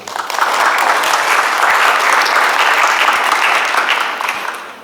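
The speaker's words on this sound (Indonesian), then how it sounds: "Boleh tepuk tangan" An audience at a motivational talk breaks into dense, sustained applause that swells quickly, holds loud for several seconds and then tapers off.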